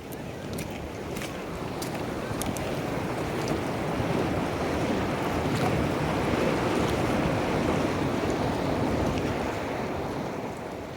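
River water rushes steadily through Spiti Valley's cold desert mountains, a continuous broadband roar with no pauses, mixed with some wind and nobody talking.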